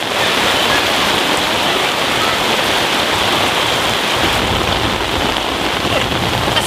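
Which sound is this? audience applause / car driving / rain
rain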